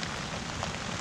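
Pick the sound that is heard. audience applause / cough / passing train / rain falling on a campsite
rain falling on a campsite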